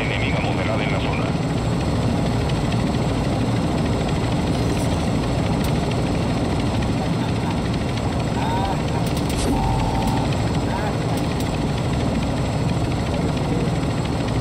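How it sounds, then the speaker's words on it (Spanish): A heavy helicopter in the Call of Duty DMZ game drones steadily with a loud, dense rotor and engine roar that fills the whole stretch, with people talking over it. "estos locos se vinieron para Rohan hoy con el helicóptero pesado"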